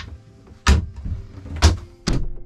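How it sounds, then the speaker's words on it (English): Watertight door on a 1990 53-foot Amel Super Maramu sailboat, three heavy close thuds as it is pushed shut and sealed, each with a dull solid low thump like a freezer door. "Sounds like a freezer door because it literally is watertight."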